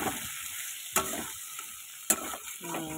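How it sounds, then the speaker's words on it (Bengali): Taro pieces fry in a pan while a spatula scrapes and stirs them in two or three distinct strokes over a continuous soft sizzle, with no talking. "কচুটাকে ভালো করে একটু ভাজা করে নিই।"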